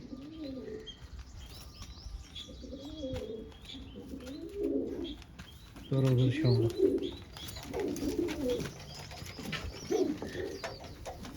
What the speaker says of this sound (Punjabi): ਦੇਖੋ ਬਈ ਆਪਣੇ ਵੱਡੇ ਕਬੂਤਰ